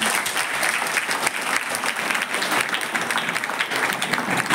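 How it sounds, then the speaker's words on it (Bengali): Loud, sustained audience applause at a school felicitation ceremony, dense steady clapping from a large crowd filling the hall for the whole stretch without pause. "সুমনের জন্য একটা জোরে হাত তালি।"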